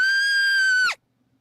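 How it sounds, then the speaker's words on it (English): A single sustained shrill scream from the visual novel game Remember11, loud and piercing for nearly a second before cutting off abruptly into silence. "a shrill scream shattered the silence"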